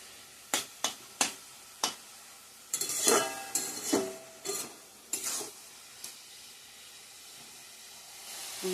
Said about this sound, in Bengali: জলটা শুকিয়ে যাক, তারপর শুকনো হলে ভাজা ভাজা করব।